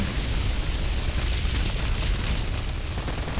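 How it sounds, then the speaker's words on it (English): A loud, sustained rumbling blast from an exploding factory in GTA Vice City roars with dense, steady crackling and low boom throughout, with no speech. "what an explosion!"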